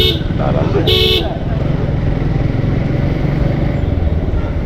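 A motorcycle rides along a road and pulls up to park, its engine a loud steady drone throughout, with a brief horn toot near the start and a voice talking over it.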